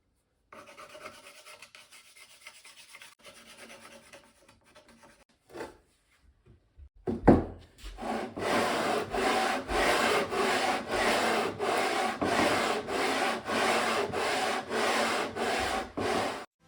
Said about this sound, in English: So we're gonna just sand it down now.